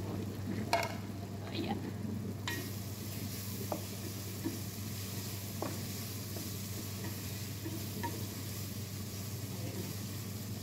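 Filipino-style spaghetti sauce with hotdog cooks in a pan, giving a constant soft sizzle broken by occasional scraping and clinking stirring strokes, fairly faint and close.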